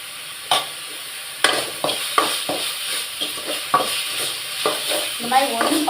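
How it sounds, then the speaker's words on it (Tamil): Rasam ingredients sautéing in a hot pan: a spatula stirs and scrapes in repeated sharp strokes over a steady background sizzle, close and fairly loud, with no talking. "நல்லா வதக்கணும், வாசனை வரணும்."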